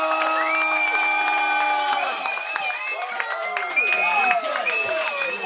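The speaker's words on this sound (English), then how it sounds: "If you think Dave Sirus won this battle, clap your hands" A live comedy roast battle audience at a New York comedy event claps, cheers and whoops for a contestant, a loud sustained crowd roar with shouted voices.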